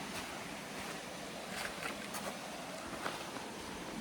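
A river near El Valle de Antón in Panama rushes steadily as a soft, broad hiss of flowing water, continuous and fairly faint, with a few light splashes and no talk.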